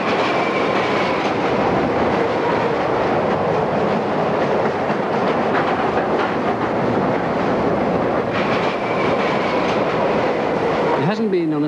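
Subway train running on rails beneath a city, a steady loud rumble with rhythmic clickety-clack and a brief wheel squeal at the end.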